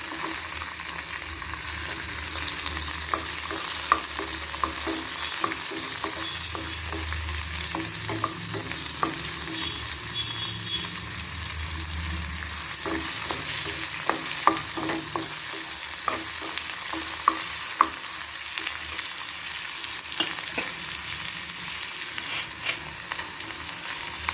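Street-food style chutney ingredients sauté in a pan, a constant close sizzle broken by frequent scraping and clattering stirs of a spoon, without any voices.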